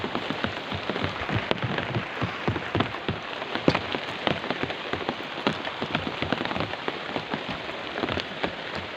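Heavy rain drums on a nearby surface, a dense continuous patter of close, crisp drops with no voices heard.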